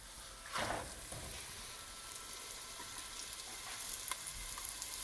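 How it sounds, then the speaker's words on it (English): Osso buco meat sears in a hot pot with a loud, continuous sizzle and a sharper crackling burst near the start. "You want the meat to be seared and caramelized on both sides"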